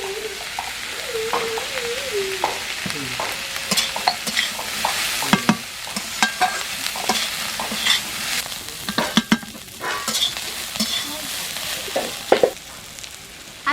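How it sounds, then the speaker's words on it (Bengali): Chopped vegetables sizzle and fry with salt in a pan for prawn chow mein, a steady close hiss broken by repeated scraping, clattering stirs and spatula knocks, with no voices. "আমি এবার একটু লবণ দিয়ে সবজিগুলো ভালো করে ভেজে নেব আমি"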